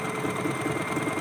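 A sewing machine stitches a blouse with a rapid, steady mechanical whir and fine rhythmic clatter, close and continuous for the whole moment.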